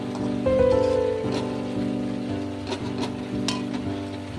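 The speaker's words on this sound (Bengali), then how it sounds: "এভাবে আমি সম্পূর্ণ ভেজে নেব" Raw soybean chops fry in hot oil with a steady, dense sizzle and crackle that holds for several seconds, close and fairly loud, with no talking.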